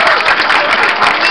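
Dense, loud crowd applause at a May festival stage show for a show band, steady close clapping filling the whole moment with no break.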